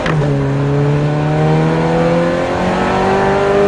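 A Ferrari F430 engine climbs steadily in pitch as the car accelerates around a race track, loud and close throughout with a sustained rising howl and no talk.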